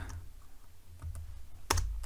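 A few scattered key presses on a computer keyboard during Excel spreadsheet work, with soft clicks spread over a couple of seconds and a louder, sharper press near the end, all alone and without talk.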